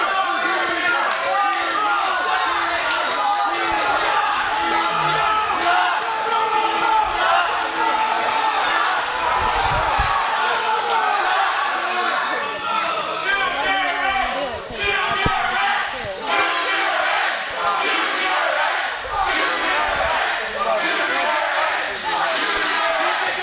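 A wrestling crowd cheers and roars continuously in an arena around a steel cage match for a heavyweight championship, loud and dense throughout, with an announcer talking over it.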